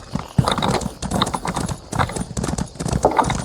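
Horse hooves in the video game Elder Scrolls Online give a brisk, uneven clip-clop of repeated hoofbeats at close range, with a faint whinny-like tone mixed in.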